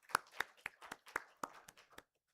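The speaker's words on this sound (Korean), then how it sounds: "박수!" A church congregation at a Sunday morning service claps in a short burst of about ten sharp, uneven hand claps, fairly close and fading out after two seconds.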